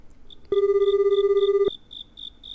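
A phone call rings out in the video game Gakuen Handsome, with a single loud, steady electronic ring tone lasting about a second over a faint repeating chirp, then quiet.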